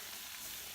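Mushrooms sizzling in a frying pan, a brief, steady, faint hiss of frying with no other sounds.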